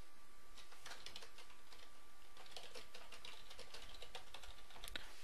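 Steady typing on a computer keyboard, a continuous run of quiet, close key clicks with uneven rhythm and no voices.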